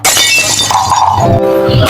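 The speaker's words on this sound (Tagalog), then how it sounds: "Nabitawan ko yung baso kasi nanginginig yung kamay ko." A drinking glass dropped and shattering indoors, a loud crash followed by ringing, tinkling shards that keep sounding to the end, with no talk over it.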